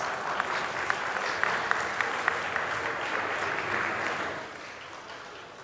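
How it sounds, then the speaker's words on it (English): Guests at a wedding reception clap together in a moderate, even burst of applause with a few sharper individual claps standing out, fading down near the end. "Give yourselves a big round of applause."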